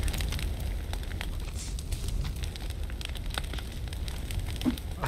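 A bonfire burns in the video game The Forest, a steady close rushing roar scattered with crackles and small pops.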